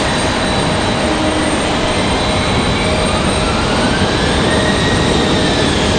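An Icelandair Boeing 737 MAX 8 jet at Raleigh-Durham airport gives off a loud, continuous engine roar with a faint rising whine.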